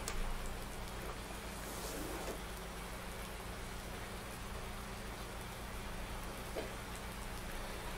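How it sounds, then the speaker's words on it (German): Heavy rain in a farming video game set in Thuringia, a steady dense hiss of downpour held at an even level throughout with no talk. "Das ist schon heftig der Regen."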